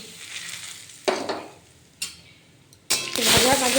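Dried neem leaf powder hits hot oil that already holds a broken dried red chilli, for a neem, potato and drumstick dish. Short sizzling bursts and stirring scrapes come three times, then a loud, sustained crackle closes the clip.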